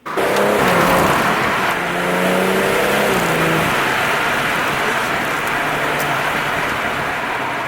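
A BMW M140i engine roars loudly and steadily as it accelerates hard, the revs climbing through the gears, close and sustained with no talk.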